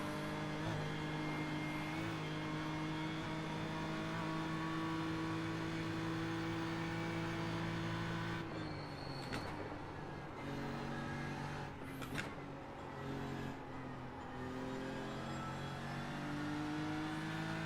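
A race car in practice for the Nurburgring 24 Hours drones at steady high revs from inside the cockpit, dips briefly as the driver lifts through a corner, then the engine note climbs again under hard acceleration.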